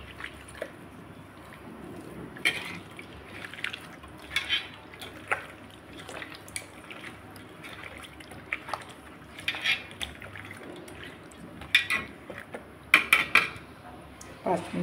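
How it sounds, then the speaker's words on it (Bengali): Pabda fish being hand-mixed with salt and turmeric in a metal bowl, giving soft wet squishing with scattered clinks of the bowl, fairly close and quiet, with a few sharper taps near the end. "মাছটাকে আমি এখন ভালো করে মাখিয়ে নেব।"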